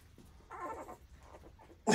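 American Bully puppies whimper with faint, brief, high whines close by in a quiet setting. A sudden loud noise breaks in at the very end.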